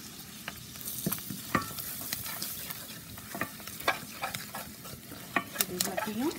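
Pepper, cumin and cashews fry in a pan, giving a soft, steady sizzle broken by scattered scrapes and taps as they are stirred, close and fairly quiet with no talking.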